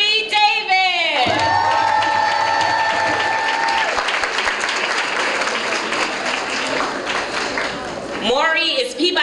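Audience at a young leaders awards event breaking into loud, sustained applause with some cheering, clapping filling the room for several seconds and rising again near the end, with a speaker's voice heard at the start and finish.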